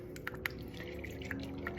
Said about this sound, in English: So we are going to just keep on letting it drip